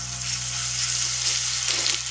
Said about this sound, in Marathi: 1 चमचा एवढी हिरवी मिरची आपण यामध्ये घालून तेलामध्ये परतून घेणार आहोत